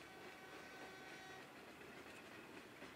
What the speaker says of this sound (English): A train, I hear? Sounds like a train.